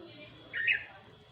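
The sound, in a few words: bulbul bird calling from a tree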